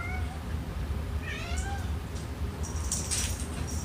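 Several cats meow and caterwaul indoors after being given fresh catnip, short rising and falling cries scattered over a steady low background hum, fairly close.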